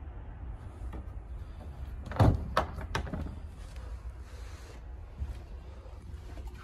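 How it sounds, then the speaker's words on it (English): A lockable storage compartment beside the helm of a 2021 Bennington 22 SSXAPG pontoon boat opening, heard as a few short clicks and a thump over a low steady background hum. "Alongside the helm, we have a lockable compartment that opens up for storage."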